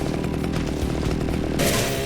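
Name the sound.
chainsaw running in the video game Splatterhouse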